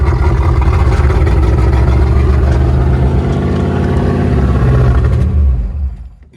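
A 1980 Buick Regal with a custom exhaust, rigged to run on the fuel left in the line, rumbles loudly at close range with a throaty low throb, then sputters and dies out as it runs out of fuel near the end.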